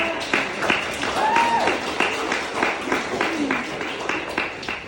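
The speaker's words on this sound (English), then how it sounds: "Can we get another round of applause for Sharp" Audience applause at a gathering, a moderate crowd clapping steadily with audible cheering and whoops mixed in, continuous throughout.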